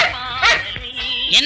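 A dog barks and whimpers in short, close, loud yips through a brief stretch of a Tamil film scene, with a voice faintly mixed in.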